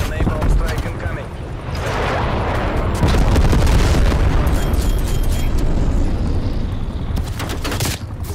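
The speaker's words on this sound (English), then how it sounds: "It's an A-bomb strike incoming." A-bomb strike explosion in Call of Duty Black Ops Cold War: a loud, sustained booming roar with crackling bursts lasting several seconds, rising and then fading near the end.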